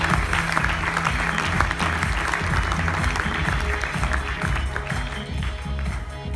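Audience applause at an innovation event in Mayenne, France, for the president of a children's association: dense, steady clapping from a sizable crowd throughout, with a low tonal hum beneath.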